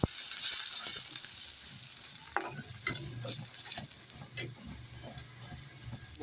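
A spice paste of ground ginger, garlic, bay leaf, green chilli, chilli powder, cumin and turmeric is stirred into browned onions with a splash of water, sizzling steadily in a pan up close with scraping stir strokes, and no voices.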